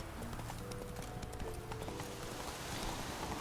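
Hooves of the horse Roach from The Witcher 3 beat out a rapid, continuous galloping clip-clop, close and steady across the whole stretch, with faint game ambience underneath.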